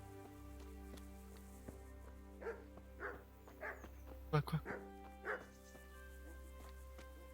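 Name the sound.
dog barking and whimpering in video game Kingdom Come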